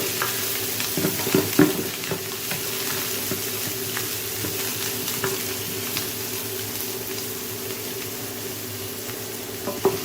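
Garlic and ginger frying in a pan after onions, with a steady, close sizzle and occasional scraping stirs across the whole stretch, no voices.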